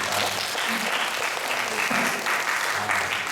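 A congregation at a Korean church Sunday worship service claps together in a brief, steady burst of applause that fills the room evenly at moderate loudness from start to finish.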